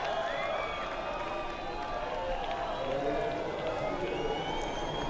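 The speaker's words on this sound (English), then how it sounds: "this is where we can hear the crowd erupt" Beach crowd at a Rio surf contest roars in a steady, dense wall of cheering and shouting from massed fans, sustained without pause and with no distinct talk over it.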